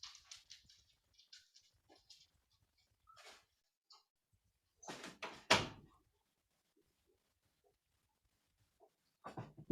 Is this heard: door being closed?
yes